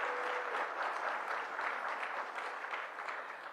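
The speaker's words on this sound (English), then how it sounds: "a big round of applause" Audience at a Washington, D.C. Cherry Blossom Festival announcement bursts into sustained, dense applause, steady and fairly loud throughout before easing slightly at the end.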